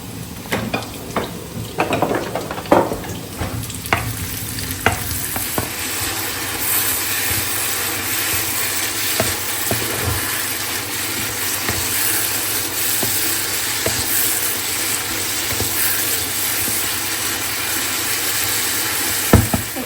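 Mixed vegetables and meat fry in a pan with a steady, close sizzle, and a spatula scrapes and clatters against the metal in quick strokes at the start before the frying settles into an even hiss.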